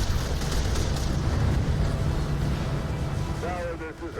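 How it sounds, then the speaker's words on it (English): Artillery explosions in the Final Assault VR video game, a dense, continuous low rumble of blasts with a faint chirping effect near the end. "And Photo finishes off the infantry ball with artillery."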